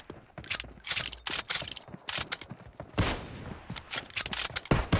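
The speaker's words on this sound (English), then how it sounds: "Reloading!" An M24 bolt-action sniper rifle in PUBG, in a warehouse team deathmatch: sharp metallic clicks and ratcheting clacks come in quick bursts with abrupt loud cracks between them, all close and punchy.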